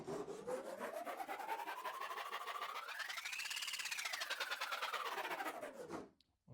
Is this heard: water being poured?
no